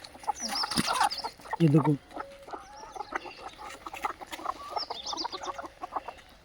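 Desi chickens with clipped wings on an Indian poultry farm give scattered clucks and calls, including one loud burst near the start, while someone talks nearby.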